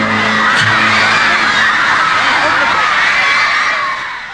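A large concert crowd cheers, whoops and screams loudly and continuously, following a rock and roll performance, with the roar fading slightly at the end.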